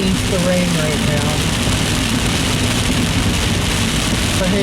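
Rain drums steadily on a car driving along Missouri Route 100, a loud dense patter over low road and engine rumble, with a voice briefly audible.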